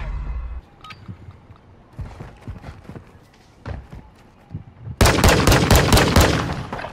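Gunfire in Modern Warfare II Gunfight mode: scattered sharp shots and footsteps, then a sudden loud, sustained burst of rapid automatic fire, close and dense at the end.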